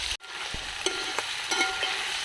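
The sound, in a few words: capsicum and garlic ginger paste frying in hot oil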